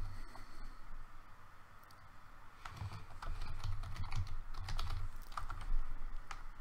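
Steady typing on a computer keyboard while setting up a C# script for a Unity 5 inventory system, a continuous run of soft clicking keystrokes that thickens in the second half, heard alone with no speech.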